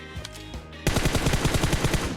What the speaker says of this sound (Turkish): Arkamda da bir silah sesi vardı arkadaşlar.